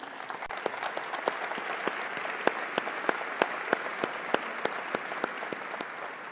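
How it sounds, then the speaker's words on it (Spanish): An audience at an Endeavor entrepreneurship event applauds. The clapping is steady and fairly soft and goes on for six seconds, with individual claps audible through the dense wash. "Yo les agradezco el aplauso"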